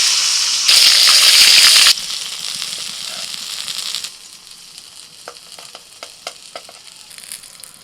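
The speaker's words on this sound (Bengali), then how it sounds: "এবার বেগুন ভেজে নেব" Eggplant frying in hot oil in a kadai: a loud, dense sizzle flares up briefly, then settles into a quieter, steady hiss dotted with sharp crackles and pops.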